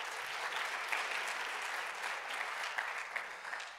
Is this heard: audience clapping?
yes